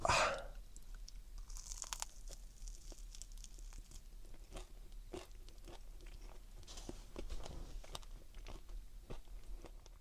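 Someone eats salt-grilled fish, with soft close chewing and faint crunches scattered over about ten seconds after a brief louder knock at the start.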